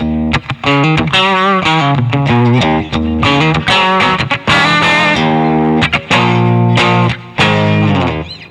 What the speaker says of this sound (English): good humbucker sound, good rhythm sound, good if you're going to use a lot of distortion